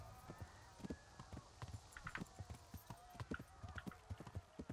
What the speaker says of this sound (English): just a normal gallop is gonna be totally fine